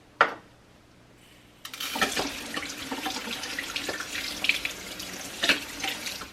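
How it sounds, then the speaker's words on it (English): Rice being rinsed in a strainer under a running kitchen tap, the close, steady rush of water starting after a brief clink and carrying on with light splashing and occasional clatter of the strainer. "I'm going to pour it into a strainer because we're going to rinse this rice."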